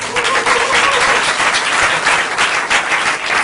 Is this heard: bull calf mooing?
no